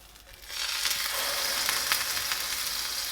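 A toasted sandwich hits a hot pan and breaks into a loud, steady sizzle and crackle that keeps going without a break, with no voices.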